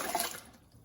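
Homebrew makgeolli Korean rice wine drips and trickles through a nylon filter bag into a jar, a brief soft liquid splash that fades quickly.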